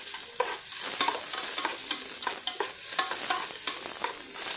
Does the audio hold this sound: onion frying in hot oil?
yes